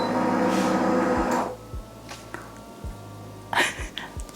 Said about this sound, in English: So as soon as you hit the power button, it immediately starts to heat up, and that top panel has raised itself up.